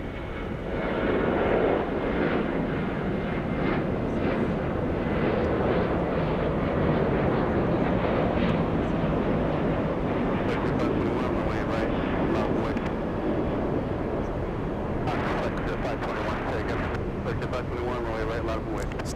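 A loud, sustained jet roar from a Southwest airliner taking off from runway 8 right at Atlanta Hartsfield-Jackson airport, holding steady throughout with faint crackling bursts near the end and radio voices under it.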